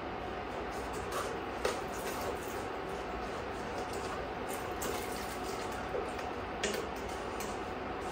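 Hot water pours into a pan of lemon pie filling mixture of cornstarch or flour, sugar and salt while it is stirred, a soft, steady liquid wash with occasional light taps and clicks, close by.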